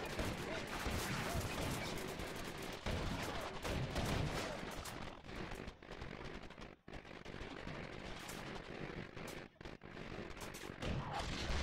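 Dense battlefield gunfire from the Graviteam combat game, with infantry rifles and 76mm anti-tank guns firing on APCs, a continuous loud barrage of overlapping shots and booms with brief dips.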